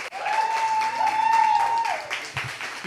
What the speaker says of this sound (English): Can I have another round of applause?